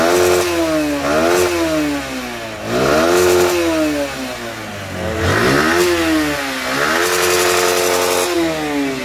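A motorcycle engine is revved repeatedly with the throttle, each blip rising and falling in pitch in several close, loud surges with no talk over it.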